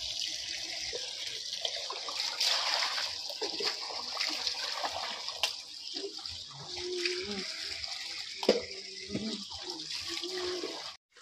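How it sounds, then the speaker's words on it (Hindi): Wheat grains being washed in a tub of water in a village home, with steady sloshing, splashing and running water close by throughout, and a brief louder splash near the end. "तो भैया गेहूं धुलने में मदद कर रही है"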